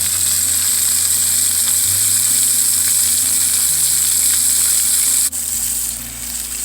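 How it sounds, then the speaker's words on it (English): Salmon fillet searing in a hot pan, a steady close sizzle with a bright hiss running continuously, a brief clink near the end, no voices. "You can see your salmon starting to brown nicely on the pan."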